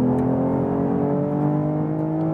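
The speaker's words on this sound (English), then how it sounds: "great sound from the 6-cylinder." BMW six-cylinder engine in a sport driving mode accelerating hard under full throttle, a loud, steady, close-up drone with layered harmonics that stays strong and even throughout.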